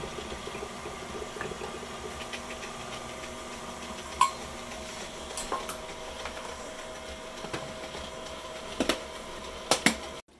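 Shortening and sugar being mixed in a bowl for ginger snap cookie dough, a steady low whirring hum with occasional light clinks and scrapes against the bowl's sides.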